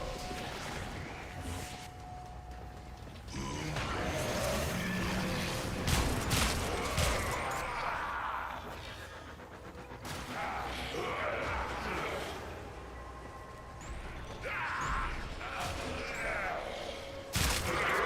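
Gunfire bursts and explosions from Warframe combat, with shockwave blasts from Grineer enemies, come in rapid loud volleys with crashes and whooshes across the whole stretch.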